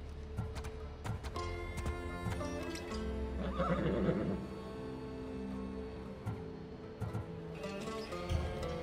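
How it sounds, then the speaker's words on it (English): A horse in Assassin's Creed Odyssey gives a long whinny in the middle, set among soft hoof clops and a low ambient hum, with no talking. "The horse is going to Adonis"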